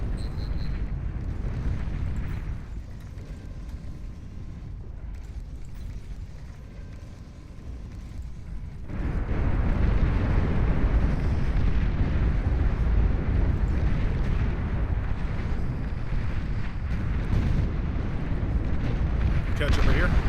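Explosions and weapons fire from the Beyond All Reason strategy game, with Inquisitor units and a long-range plasma cannon. A dense, rumbling barrage runs steadily throughout and grows heavier and louder about halfway through.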